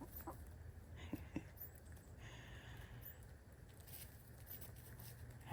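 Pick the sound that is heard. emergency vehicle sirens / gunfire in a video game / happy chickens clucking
happy chickens clucking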